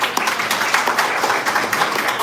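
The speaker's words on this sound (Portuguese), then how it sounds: "Uma salva de palmas." An audience at an art exhibition event applauds, a dense, steady wash of many hands clapping, moderately loud and continuous.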